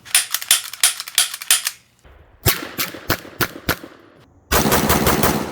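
Rapid bursts of gunfire from a VP70 pistol, loud and close, sharp shots in quick strings separated by short pauses, with a final dense stretch of continuous firing.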